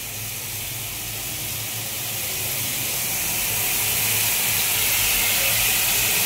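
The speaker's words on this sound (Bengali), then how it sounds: "এটা হচ্ছে মশলা কষানো হচ্ছে মশলাটা" Spices for chana dal sizzle in a pan as they are fried down, a continuous close hiss that grows gradually louder over a few seconds with no talk.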